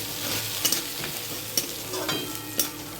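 Onions frying in a pan for a fish curry, a continuous sizzle with a few sharp scrapes and clacks of a spatula as they are stirred, close and steady.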